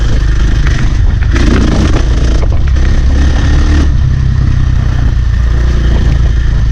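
A motorcycle ride captured on a helmet or bike-mounted GoPro, dominated by loud continuous wind buffeting and engine rumble with occasional rattles and scrapes.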